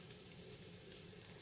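Onions and garlic sizzle in olive oil in a pan, the start of a sautéed base for okra. A steady, soft frying hiss runs without break, and no one talks.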